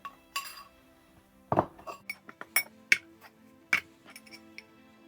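Cookie mix ingredients are stirred in a glass jar: scattered clinks and taps of a utensil against the glass, a dozen or so sharp knocks at uneven intervals, close and fairly quiet, with no talking.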